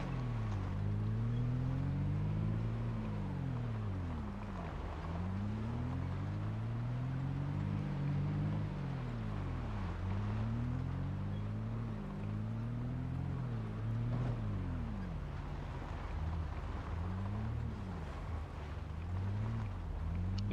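A Jeep drives in the video game Project Zomboid, its engine droning loud and steady with repeated rising and falling revs as it shifts through gears. No one speaks.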